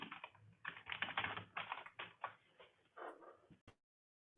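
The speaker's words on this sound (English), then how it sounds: "I hear somebody typing." Typing on a computer keyboard comes through an online national meeting call as a dense run of quick, uneven clicks and taps, moderately close, with brief pauses and a final isolated tap after a gap of quiet.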